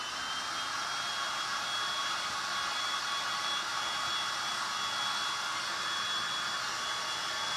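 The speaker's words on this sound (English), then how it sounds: "So I'm going to hit this again with the heat gun." A heat gun blows steadily on a thrifted painted wood box, giving an even, loud, hair-dryer-like rush of air that holds constant throughout with no pauses.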